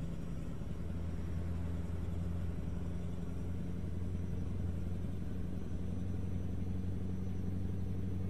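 Deep steady rumble of a truck engine in American Truck Simulator, driving through Utah under gentle, steady acceleration, a constant low drone with no voice over it.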